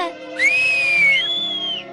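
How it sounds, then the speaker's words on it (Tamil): A girl in the Heidi cartoon lets out a loud whistle, two long, sliding high tones one after another, clear and close over a light background. "சத்தமா விசில் அடிக்கவும் கத்துக்கிட்டேன்"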